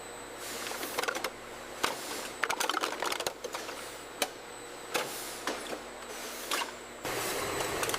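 Industrial sealing and capping machine closing spicy sauce containers in a Korean factory, giving irregular mechanical clicks, clatters and knocks over a steady hum, with a denser mechanical run toward the end and no talk.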